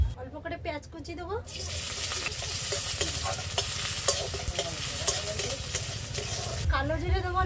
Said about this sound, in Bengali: আর পেঁয়াজটা একটু লাল লাল করে ভেজে নেব